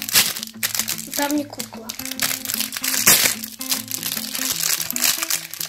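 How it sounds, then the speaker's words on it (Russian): A large plastic package for a LOL Pets toy crinkles and crunches continuously as it is opened, loud and close, while someone talks over the rustling. "Открываем большой пакет."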